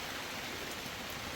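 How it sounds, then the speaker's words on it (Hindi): Heavy rain pours steadily on a mountain pilgrimage trail, a dense, even hiss with no voices. "बारिश फिर तेज़ लगी है।"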